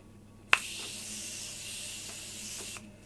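Morphe Continuous Setting Mist sprays onto a face in one continuous hiss lasting a couple of seconds. A sharp pump click starts it, and the mist cuts off cleanly into near silence.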